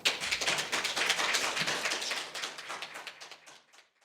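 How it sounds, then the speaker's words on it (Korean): An audience at an academic conference on Jeju haenyeo culture applauds a keynote speaker, a brisk crowd clapping that begins loudly and gradually thins, fading out toward the end. "박수로 맞아주시기 바랍니다"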